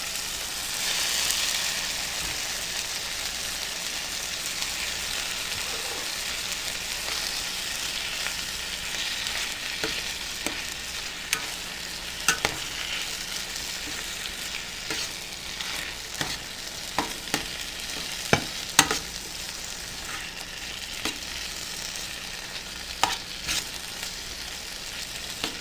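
Saltfish frying in a pan while being stirred, a steady loud sizzle with scattered scraping clicks of the spoon, no voices.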